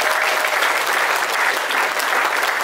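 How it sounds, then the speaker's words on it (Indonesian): Steady, dense applause from a crowd, continuous clapping filling the whole moment at a constant level. "Sekali lagi beri tepuk tangan"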